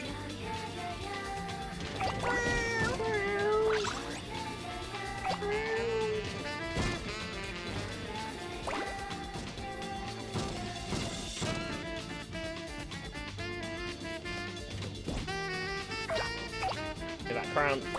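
A cartoonish cat meows several times in the video game Katamari Damacy, short rising cries mixed into busy, upbeat game music and clattering effects, with a player talking over parts of it.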